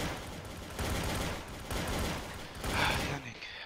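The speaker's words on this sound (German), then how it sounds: "Pavel, schießt doch nicht." Gunfire in the video game Trouble in Terrorist Town, heard as dense bursts of rapid shots that come in waves across the clip, loud and close in a busy game mix.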